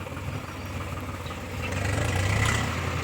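A tractor engine idles with a low rumble, then swells louder as it pulls away outdoors, with no talking.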